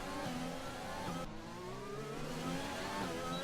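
A Formula 1 race car in a video game accelerates with overtake mode and rich fuel mixture, engine pitch climbing steadily through gears, continuous and fairly loud.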